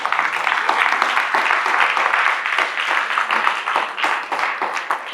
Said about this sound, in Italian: Un applauso, già che ci siamo, anche a Clara che fa le fotografie.